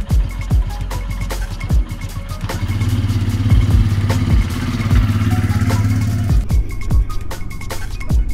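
A motorcycle engine idling close by, a low steady throb with repeated clattering knocks and a brief rise in revs midway, heard alone.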